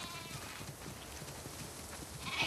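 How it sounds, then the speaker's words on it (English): Faint sheep bleats in the video game The Last of Us Part II come through over a soft, busy background, slightly muffled and distant, with a few small clicks near the end. "We definitely have way too many sheep."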